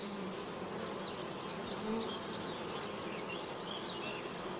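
Honeybees buzzing around their colony, a dense continuous hum of many wings holding steady throughout with no voices.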